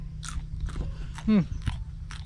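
Someone bites into fresh pesticide-free climbing beans picked from a home garden, giving a few crisp crunches amid soft chewing, close to the mouth, with brief vocal sounds mixed in.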